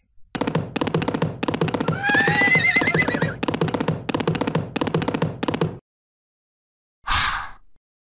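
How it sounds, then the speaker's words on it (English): In an alphabet learning video game, horses neigh and whinny repeatedly over several seconds, their calls blended with galloping clip-clop hoofbeats in a busy, loud burst. After a pause, one shorter whinny follows at the end. "Horses."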